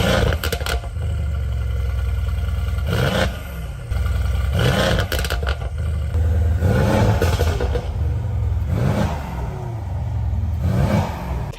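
The inline-six engine of a BMW F82 M4 revs up repeatedly in deep rumbling surges, loud and close, with a steady idle growl between the blips.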